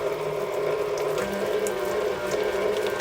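A stand mixer fitted with a whipper attachment creams cream cheese for a cheesecake, giving a continuous, even mechanical whir with a gear-like rattle, loud and close, with no pauses.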